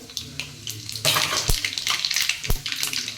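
Mustard seeds and cumin hit hot oil for a vada pav filling and burst into loud spattering crackles and pops over a sizzling hiss, with a couple of sharp clanks and no voices.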